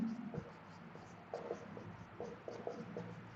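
Marker or chalk writing on a board during a Class 12 physics lesson on electric charges and fields, short scratchy strokes in quick bursts, fairly faint, with no talk over them.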